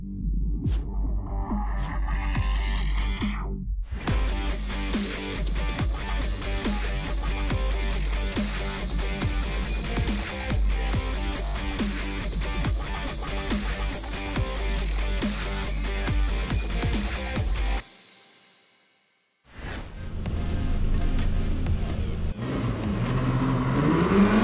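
A Ford GT40 race car drives hard, its loud engine roaring steadily close by for long stretches, cutting out briefly near the end and then returning with renewed revving.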